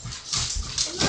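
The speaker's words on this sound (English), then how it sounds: "My dog's in here." A dog whimpers just outside a room, its soft, repeated whines coming in brief bursts with no talking over them.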